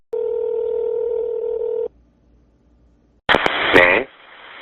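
Telephone call being placed to the 119 emergency line: a steady electronic line tone holds for about two seconds, then a short pause, then a louder, harsher burst of tones and line noise that fades to a faint hiss.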